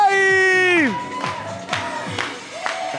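Studio audience cheering, whooping and clapping on a game-show host's command, a loud crowd burst with shouts rising over a fading tonal sound effect, then scattered claps and yells.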